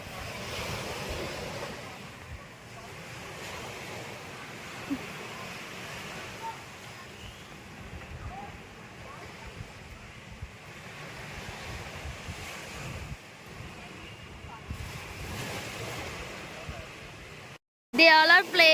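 Steady wind and waves wash up on a beach on Neil Island, broad and continuous with gusts buffeting the microphone, and voices talk intermittently over the surf.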